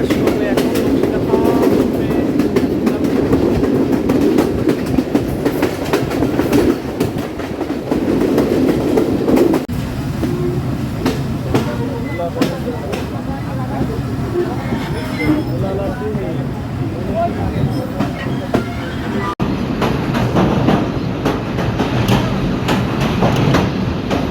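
A Nakshikantha commuter train runs on rails into Porata junction in Bangladesh, with a loud, continuous rumble and rhythmic clickety-clack of wheels throughout, heard from on board.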